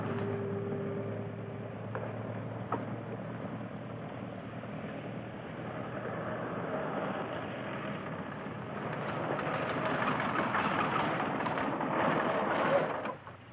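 A truck engine approaches on a 1950s Mexican road: a steady, close rumble that holds for several seconds, then swells louder near the end before cutting off. No one speaks.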